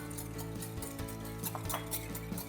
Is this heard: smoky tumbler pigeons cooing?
no